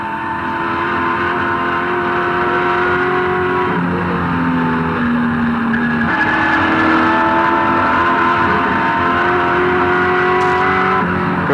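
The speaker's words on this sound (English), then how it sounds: "Gear change for Peter Brock as he moves up to Toledo Tools' turn, brings him up to the top of the mountain" Peter Brock's race car at the 1986 Bathurst 1000 climbing the mountain, its engine roaring loud and continuous with audible gear changes and shifting pitch, no talk over it.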